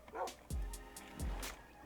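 A dog in the Minecraft video game gives two short, clear barks about a second apart, fairly close and loud against a quiet background.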